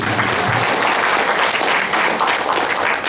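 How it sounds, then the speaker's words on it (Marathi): An audience at a documentary film event claps together in a sustained, even round of applause, loud and close, with no talking over it. "आपण टाळ्या वाजवूया"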